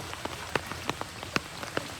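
Rain falls on a flooded village road in Balasore, Odisha, with scattered close drops spattering against a faint steady patter, and no talking.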